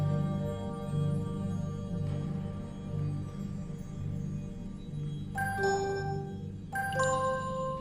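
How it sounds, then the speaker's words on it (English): Soft bell-like chimes ring out twice over a steady low hum, each tone lingering and fading with a reverberant, hollow resonance against stone temple walls. "The sound chimes once more, resonating softly against the stone walls."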